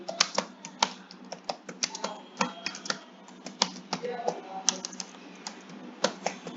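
Rapid, uneven clatter of keys on a computer keyboard, close and fairly quiet, with sharper taps scattered through a steady run of keystrokes while entering text into a registration form.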